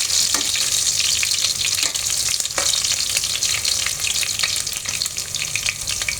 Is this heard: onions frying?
yes